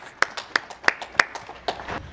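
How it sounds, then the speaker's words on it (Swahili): An audience at an official ceremony claps for the President in a brief, evenly spaced run of about six sharp, close claps with no talk over them. "Tumpigie makofi sana Mheshimiwa Rais"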